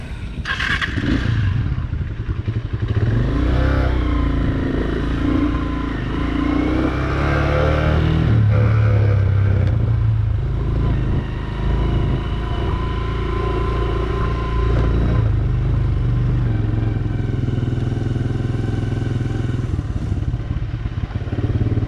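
A motorcycle engine roars loudly and close, revving and rising in pitch as it speeds nearer, with some rattling clatter underneath.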